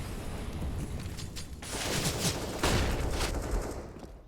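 Rifle sprays from CS:GO on the Mirage map rattle in quick overlapping bursts, growing louder midway and then easing, heard alone without talk.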